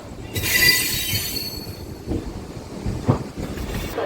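A MEMU train from Bhimavaram pulls into platform three at Vijayawada Junction, its wheels squealing shrilly before giving way to a low rolling rumble and a few heavy clunks as it slows.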